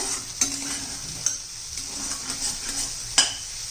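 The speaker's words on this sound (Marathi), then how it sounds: "चांगलं दोन तीन मिनटं आपण परतून घेऊ हा वाटाला म्हणजे कच्चेपणा नाही एक सारखं हलवत राहायचंय" Fresh ground masala paste for keema being stir-fried in a pan, with a steady soft sizzle and a few sharp scrapes and clinks of a spoon against the pan scattered through.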